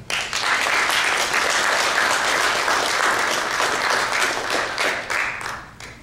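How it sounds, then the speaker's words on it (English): A panel event crowd applauds warmly, a dense, sustained burst of clapping that holds steady for several seconds before tapering off at the end. "Please give a warm round of applause for Usama Canon."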